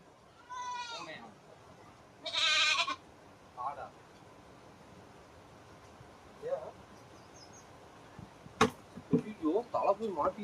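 A goat with its head stuck bleats in loud, wavering cries, several calls spread apart at close range, with people talking in between and toward the end.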